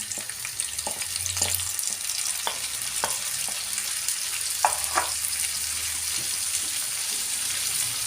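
Chopped pickles sizzle and fry steadily in a pan, with occasional clinks and stirring knocks over the continuous hiss.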